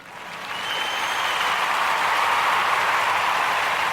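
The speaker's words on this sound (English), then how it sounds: "Send him a round of applause as well." A round of applause during a Kwanzaa-themed daily talk, clapping swelling in after a quiet start and holding steady and fairly loud to the end, with a faint tone running through it.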